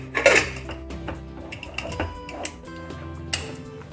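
Metal lid of a pressure cooker holding potatoes and water is fitted and closed, producing several clanking, rattling knocks of pot and lid at varying intervals, close and moderately loud.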